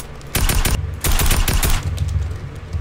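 Rapid bursts of gunfire in Fortnite, aimed at a stairway, loud and close, with two clusters of quick repeated shots followed by a few scattered pops.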